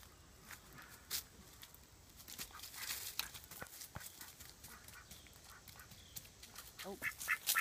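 A pet duck makes quiet, scattered sounds close by, mixed with soft pattering footsteps and handling noise on a faint, noisy background.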